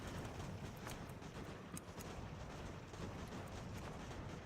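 Dense, continuous rumble of massed musket volleys and artillery fire on a Revolutionary War battlefield in Ultimate General: American Revolution, steady and distant-sounding with a few sharper cracks standing out.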